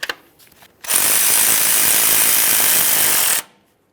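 A bolt at the plastic bracket on the steering knuckle of a 2015-2020 Ford F-150 is run in with a power ratchet, a loud, close, sustained buzzing whir lasting about two and a half seconds after a few light clicks.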